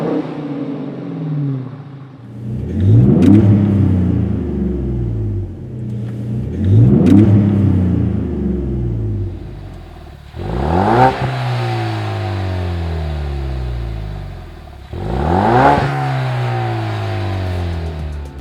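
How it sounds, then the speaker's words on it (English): A car exhaust fitted with a Flowmaster FlowFX straight-through muffler revs four times, each throttle blip climbing to a raspy, deep roar then falling back to a rumbling idle, loud and close. "The FlowFX series muffler delivers a moderate performance sound level for the enthusiast looking for an exhaust tone"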